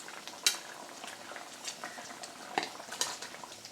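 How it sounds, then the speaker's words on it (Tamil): Brinjal pieces tipped into a tamarind gravy simmering in a pot for oil brinjal kuzhambu, giving soft clatters and stirring over a steady low bubbling, with a couple of sharper utensil knocks. "இப்போ இந்த டைமில் நம்ம கத்திரிக்காயை உள்ளே சேர்த்துடலாம்."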